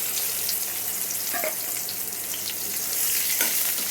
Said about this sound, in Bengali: তো এখন আমি পেঁয়াজগুলোকে লাল লাল করে ভেজে নিই।